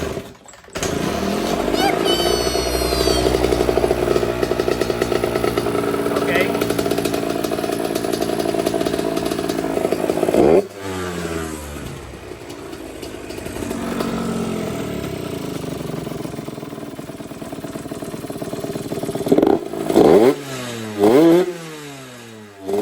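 A rebuilt childhood dirt bike engine runs up close, loud and buzzing, with rising and falling revs, a brief cut near the middle and sharp blips toward the end, while a voice talks over it.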